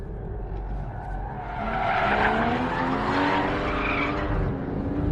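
Porsche Cayman GT4 driven hard, its engine rising in pitch as the tyres squeal and skid loudly for a few seconds before easing, heard from inside the car.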